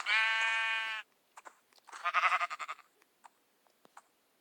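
Sheep bleat in a video game: one long sustained bleat, then a wavering second bleat followed by scattered short clicks and faint blips.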